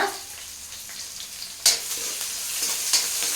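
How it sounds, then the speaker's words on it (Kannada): Onions with mustard seeds and curry leaves frying in a pan, a continuous soft sizzle with occasional sharp scrapes and clinks from stirring, close up and with no voices. "ಒಂದು ಬೌಲ್ ಆಗುವಷ್ಟು ಈರುಳ್ಳಿನ ಹಾಕೊಂಡ್ಬಿಟ್ಟು ಚೆನ್ನಾಗಿ ಮಿಕ್ಸ್ ಮಾಡೋಣ"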